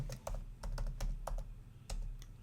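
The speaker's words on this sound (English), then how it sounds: "I can type new text here." Text is typed on a computer keyboard in a quick run of close, crisp key clicks with short uneven gaps, quiet and alone.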